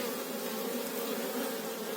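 A steady, close buzzing of bees in flight, continuous and droning with no pauses, heard alone without voices.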